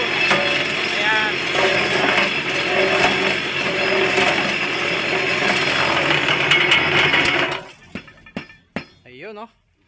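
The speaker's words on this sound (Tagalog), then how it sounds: "Tetestingin namin itong hollow block machine namin." A size #4 concrete hollow block (CHB) machine with a mold runs in a loud, steady mechanical roar with metallic clinks, then stops abruptly, leaving a few sharp knocks and scattered sounds with voices nearby.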